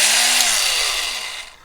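A Makita 6012HD cordless drill held above electric guitar pickups gives a loud, bright sustained whine that glides slowly down in pitch as the motor winds down, fading near the end, with no voices.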